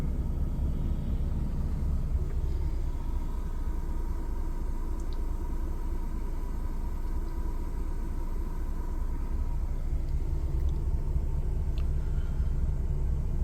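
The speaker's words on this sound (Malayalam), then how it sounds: "നല്ല ട്രാഫിക്കാണ്. ലൈൻ അടിച്ച് നിൽപ്പുണ്ട്." Idling trucks with trailers queued in heavy traffic on the road from Poland to Germany, a steady low engine rumble and hum, continuous and moderately near, with no voices.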